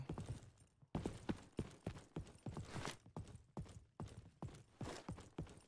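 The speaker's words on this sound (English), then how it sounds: "Look how loud the stomping is in this game." Heavy stomping footsteps from a player in Roblox Frontlines, a rapid, loud, evenly paced series of thuds with a brief pause near the start, close and dominant with no talk over them.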